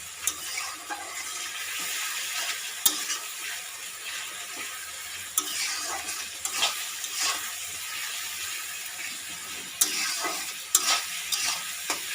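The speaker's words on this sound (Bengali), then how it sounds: "লবণেতে পেঁয়াজটা একদম নরম হয়ে যাবে আর চটজলদি ভাজা হয়ে যাবে।" Salted onions frying in a pan for chicken kosha, a continuous hissing sizzle broken by repeated scraping stirs and occasional spatula clacks, close and fairly loud.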